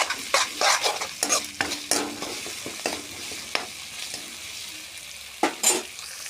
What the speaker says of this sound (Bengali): তারপর দিব রসুন বাটা, তারপর দিব আদা বাটা, দিয়ে নাড়তে থাকবো।